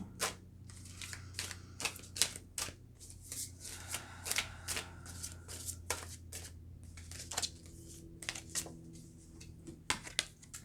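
Tarot cards shuffled by hand during a reading, a run of crisp riffling bursts and flicks in irregular rhythm, close and fairly quiet over a low steady hum, with no talking.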